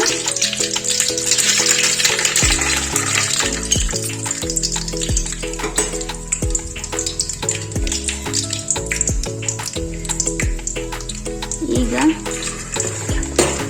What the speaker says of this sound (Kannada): ಸಾಸಿವೆ ಚಟ್ಪಟ್ ಅಂತಿವೆ. ಈಗ ಕಡಲೆ ಬೀಜ ಹಾಕೋಣ.